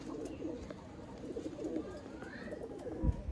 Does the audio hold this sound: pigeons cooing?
yes